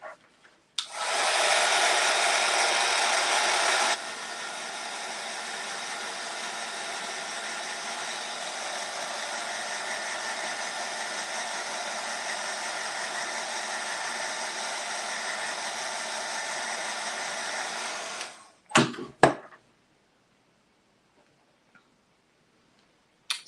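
A handheld dryer blows on a craft project, switching on with a loud airy roar for a few seconds, then dropping to a lower steady whoosh that runs for about fifteen seconds before clicking off with a couple of handling knocks.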